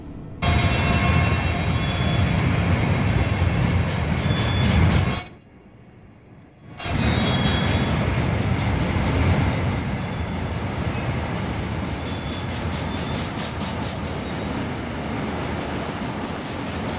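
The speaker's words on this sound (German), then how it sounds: "Güterzug fährt los." Freight train pulling away in Train Simulator 2019, a loud continuous rumble of rolling railcars and rhythmic wheel clatter, briefly dropping out before resuming steadily.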